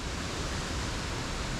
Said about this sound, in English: They're big, powerful waterfalls,